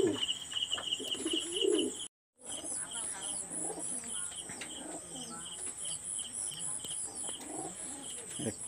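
Pigeons coo in soft repeated low phrases nearby, with chirps and a steady high insect-like whine in the background and faint talk, briefly cut by a moment of silence.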